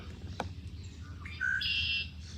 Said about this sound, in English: That is a red-winged blackbird.